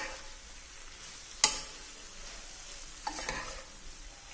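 Paneer pieces coated in sauces are stirred in a frying pan over a soft, steady sizzle, broken by a sharp scrape or clack of the spatula and a few lighter knocks later.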